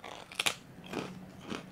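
Crisp bites and crunches from a rice-based wafer cookie, a sharp double snap followed by softer chewing crunches, close and fairly quiet.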